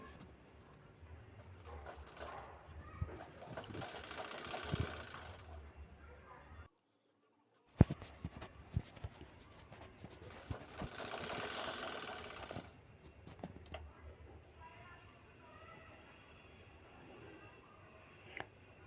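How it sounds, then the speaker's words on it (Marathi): A sewing machine stitches a bag made from saree borders, running in two close, steady bursts of whirring separated by quieter handling and a short silent gap, with no talking. "आधी पिना लावून घ्यायच्या म्हणजे पटकन शिलाई होते"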